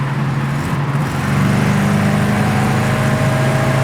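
Engine of a 1972 Plymouth Scamp with a 4-barrel carburetor, droning steadily at speed on the road, its low hum swelling slightly louder and fuller partway through as the carb opens up, with no talk over it.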